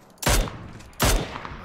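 Two loud, close gunshot blasts about three quarters of a second apart ring out in the battle-royale shooter PUBG, each a sharp broadband crack with a short decaying tail, no talk over them.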